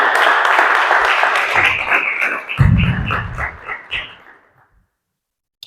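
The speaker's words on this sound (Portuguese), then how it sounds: "Uma salva de palmas, por favor." Audience applause welcoming a junior orator at a speaking event, a broad wash of clapping that fills the opening seconds, thickens briefly with a low rumble midway, then thins and dies out into silence.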